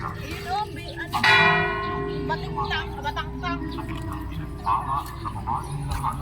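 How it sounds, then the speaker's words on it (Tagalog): A church bell rings inside an old stone church built from coral, with a struck tone and ringing harmonics that fade over several seconds while people talk nearby. "Kampana."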